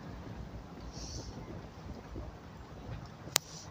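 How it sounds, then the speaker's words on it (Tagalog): Strong wind buffets the microphone on a seaside shore where someone is fishing, giving a steady low rumbling roar with one sharp click near the end. "Ang lakas ng hangin."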